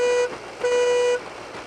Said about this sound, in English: that air horn goes to shit